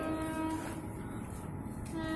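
A non-stop train runs through a station platform with a low rumbling roar and intermittent sustained horn tones, steady and fairly loud throughout.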